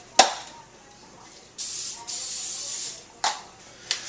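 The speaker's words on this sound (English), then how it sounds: "I'm going to throw in a little bit of canola cooking spray oil." Canola oil cooking spray hisses into a pan in short bursts: a sharp initial click, then two longer sprays of steady hiss, and a couple of brief clicks from the can, heard close up.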